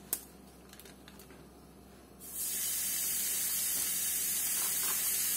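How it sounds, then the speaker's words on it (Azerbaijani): A beef burger patty hits a preheated pan after a quiet start with a few light clicks, then a loud, close, steady sizzle continues to the end. "İndi ətimizi tavaya yerləşdirə bilərik."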